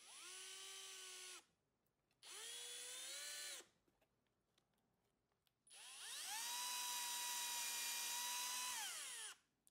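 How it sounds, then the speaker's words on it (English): Power drill boring into a Tesla jack pad adapter, three sustained whining bursts with a short gap and then a longer run, loud and close with no talking. "Drill down."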